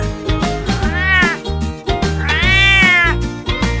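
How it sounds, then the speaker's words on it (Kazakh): A cat meows twice, long drawn-out cries, loud and close over a steady background music bed. "Мысық."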